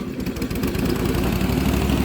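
A Bandit ZT1844 tracked stump grinder's engine idles steadily, a loud, even low-pitched rumble that holds without change for a couple of seconds.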